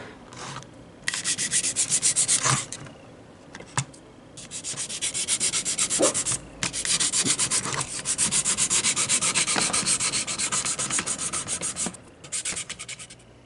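The wooden deck of a model flatcar is roughed up for weathered texture with rapid, close scraping and rubbing strokes, coming in long rasping runs broken by brief pauses and taps.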